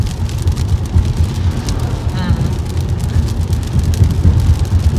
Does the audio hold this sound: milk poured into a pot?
no